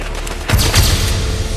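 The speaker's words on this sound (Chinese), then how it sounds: "京城的大小商铺为了一尽情谊，便从大清早就开始燃放鞭炮" Strings of firecrackers set off in a city street for a wedding in an old-style capital burst into a loud, rapid volley of crackling bangs after a brief lull and keep rattling on.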